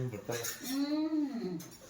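Dishes and metal utensils being scrubbed, with a few brief clinks and scraping sounds largely buried under a person talking.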